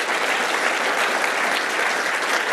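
Audience applause at a Python/tech conference talk, a steady dense wash of clapping from a seated crowd that stays loud and even throughout, with no talking over it.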